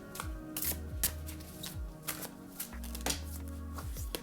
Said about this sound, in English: let's go ahead and pull a goddess oracle card for you.